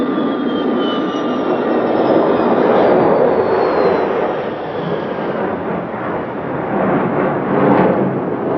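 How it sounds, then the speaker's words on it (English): A Tupolev Tu-144 supersonic airliner passes over an airfield, its jet engines producing a broad, loud roar with a faint high whine that slowly swells and fades, heard from the ground at a distance. "The Tu-144 made 3 passes over the airfield."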